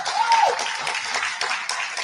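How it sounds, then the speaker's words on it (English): An audience claps together, a dense, steady patter of many hands lasting about two seconds, with a brief tonal voice sound near the start. "people are actually clapping"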